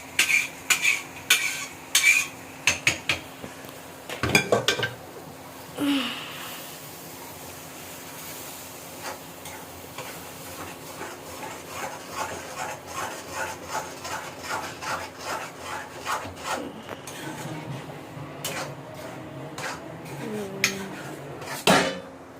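Pav bhaji masala being stirred in a pan with a utensil, giving repeated scraping and clinking strokes that run steadily through the middle of the clip, close and moderately loud, with a few sharper knocks near the start.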